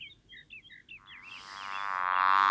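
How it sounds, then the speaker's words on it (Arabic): A bee buzzing in an animated fairy tale: a few short warbling chirps, then a rising, swelling drone that grows steadily louder and nearer until it fills the scene. "إنها نحلة، إنها نحلة، افعلي شيئاً."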